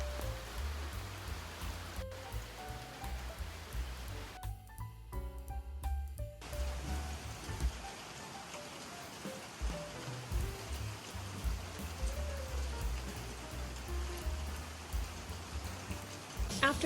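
Steady, heavy rain pours down continuously in Costa Rica, heard from a balcony, a dense hiss of drops on surfaces with a low rumble underneath, briefly dipping before resuming at full strength.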